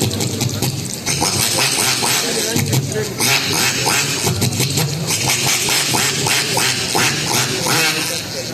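A human voice imitates a duck with loud, raspy quacks repeated in quick bursts, close and energetic, filling the whole stretch.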